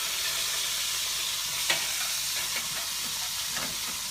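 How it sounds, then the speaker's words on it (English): Sizzling chicken fat swirled around a roasting chicken in a pan, pushed with tongs, a steady crackling frying hiss with faint scrapes and a small clink of metal. "it helps sometimes to release it if you kind of swirl the fat around"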